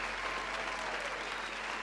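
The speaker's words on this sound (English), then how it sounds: "Let's give a round of applause" A live audience at a music show claps in dense, steady applause, loud and close, with a faint voice murmuring underneath.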